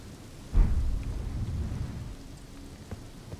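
Rain and thunder in Elden Ring, a deep rumble of thunder rolling in and fading over a couple of seconds, with steady rainfall continuing beneath.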